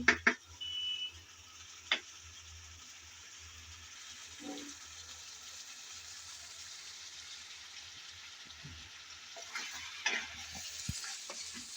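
Potatoes for aloo dum with peas are stirred and sautéed in a pan, giving a quiet, steady sizzle with scattered scraping clinks of the spoon and brief louder stirring bursts near the start and end.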